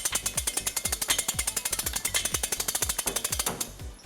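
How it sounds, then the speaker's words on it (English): U-Haul hitch jack raising a trailer hitch under a 2006 Ford Ranger, a fast rapid series of loud mechanical clicks and knocks in steady rhythm, close and without talk. "We're going to be using our U-Haul exclusive hitch jack."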